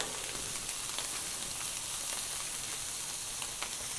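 Ribeye steak searing in an Ooni Koda 16 pizza oven, a steady close sizzle and crackle of fat with faint pops, continuous and even throughout with no talking.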